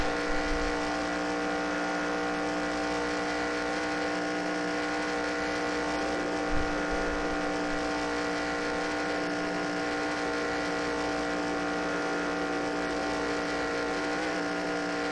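Stock cars race in the NASCAR Racing 2003 video game during a 1989 Daytona 500 career-mode race, a steady loud engine drone that holds its pitch with little change, no talking.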